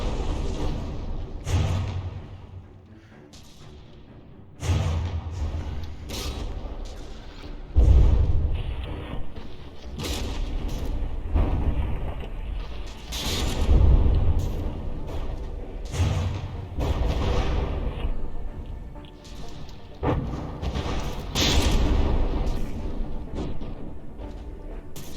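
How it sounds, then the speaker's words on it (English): Heavy HE shells slamming into reinforced wood armour in the From the Depths video game: repeated deep booming thuds and crashes at irregular intervals, some louder than others, over a steady low rumble of battle. "that reinforced wood is not holding up against this heavy heavy HE shell"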